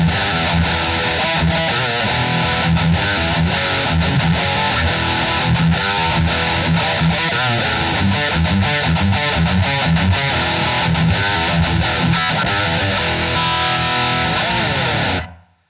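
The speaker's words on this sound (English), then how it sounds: "this is going to be probably a good high gain rhythm tone" A Blackstar ID:CORE V4 Stereo 40 amp set for high-gain rhythm with reverb: heavily distorted electric guitar chugs a dense, scooped riff, thick and loud with a bright, buzzy edge, ending abruptly.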